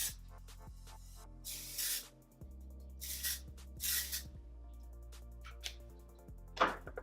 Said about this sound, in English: I like to spray my hair with the Way Texturizing Hairspray